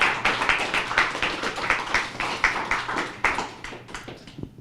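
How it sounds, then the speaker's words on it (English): A small audience at a startup pitch night in New York claps in a quick, dense rhythm, the applause rising steadily and then thinning out into a few last scattered claps. "Give me a round of applause."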